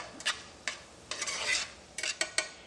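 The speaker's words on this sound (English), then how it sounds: "I'm going to mix everything together real quick" Egg roll in a bowl mixture being stirred with a utensil in a bowl, giving a series of short scraping and clinking strokes in an uneven rhythm, close and fairly quiet with no talking.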